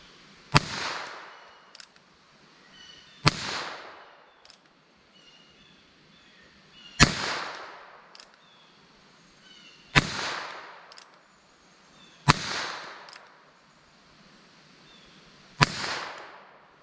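A rifle fires Norma TAC-22 .22 ammunition into ballistic gel: six sharp, loud cracks spaced a few seconds apart, each with a short ringing decay and quiet pauses between shots.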